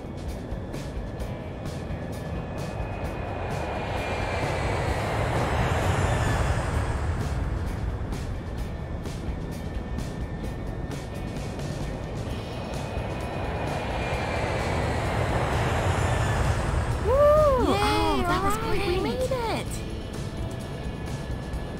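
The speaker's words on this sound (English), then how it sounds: "We're getting ready to go back through the Earth's atmosphere." Spaceship re-entering Earth's atmosphere for landing, a loud roaring rush that swells and fades twice with whooshing noise, under people talking throughout.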